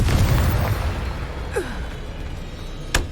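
In Hogwarts Legacy, a Confringo fire spell bursts with a loud booming explosion that decays into a rumble, followed by a whooshing streak and a sharp final crack.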